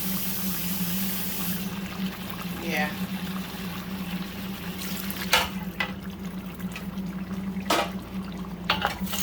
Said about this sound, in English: I'm gonna add some water, like about 1 cup of water